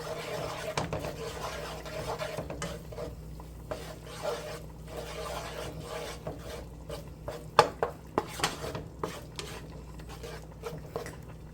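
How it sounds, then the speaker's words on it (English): A spoon stirs flour into oil and fat in a pot for a gluten-free roux, making soft scraping and clinking against the pot. The sounds are faint and irregular, with sharper taps near the end. "Stir it really well to incorporate all the fat."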